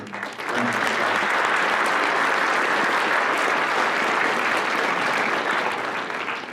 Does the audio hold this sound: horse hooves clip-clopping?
no